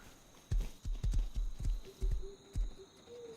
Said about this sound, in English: These are bad horses.